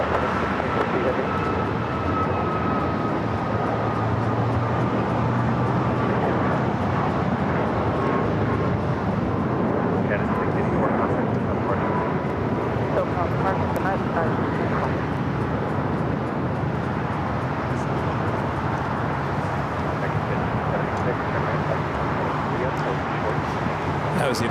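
A United Airlines 737 MAX 9 jet takes off at LAX, a steady broadband engine roar that fills the whole stretch at a constant level, with radio chatter running faintly underneath.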